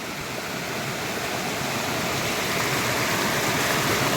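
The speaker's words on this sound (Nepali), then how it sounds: "यहाँ चाहिँ फेरि कालो पानी बग्छ ल" Dark water flows along a path on the way to town, a steady, full rushing wash like a stream or small waterfall, close and constant for the whole stretch with no voices.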